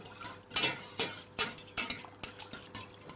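A whisk is stirring vanilla pods into milk in a pot, making a quick series of rhythmic, close scraping and clinking strokes, about eight in a few seconds.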